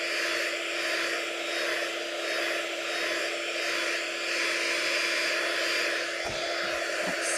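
A heat tool blows steadily while drying paint and inks on the back of a mixed media sunflower craft project, a loud, even whirring hiss that holds for several seconds with a few soft handling bumps near the end.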